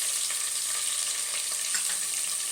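Onion, capsicum and green peas sizzle continuously in a hot tempering, an even close hiss with faint occasional stirring ticks.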